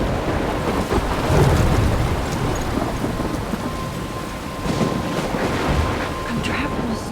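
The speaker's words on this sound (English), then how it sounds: "I'm trapped in a storm?" A storm rages in the game Life is Strange, with steady heavy rain, gusting wind and rolling thunder that swells and fades in a dense continuous roar.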